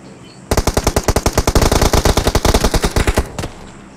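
Rapid automatic gunfire in PUBG Mobile, a loud close burst of about thirty sharp shots in quick even rhythm lasting around three seconds, then stopping abruptly.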